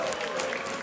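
Steady applause from an audience at a drag show for performer Manu, a dense continuous wash of clapping filling the whole short moment, loud and close.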